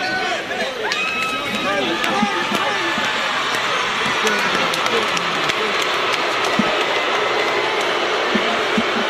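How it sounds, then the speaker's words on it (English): A boxing crowd applauds and cheers after a fight, a dense, steady roar of clapping and voices that holds at an even level throughout. "The crowd showing their approval and their appreciation."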